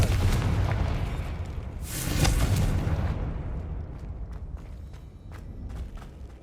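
A Confringo fire spell blasts in Hogwarts Legacy: a broad, rumbling burst swells around the middle of the moment over a steady low background, then trails off into fainter thuds and crackles, with no one talking.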